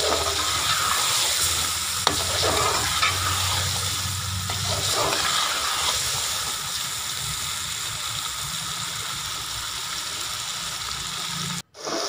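Cauliflower and chicken masala sizzling as it fries in a pan, with a continuous crackling hiss and scraping stirring sounds throughout.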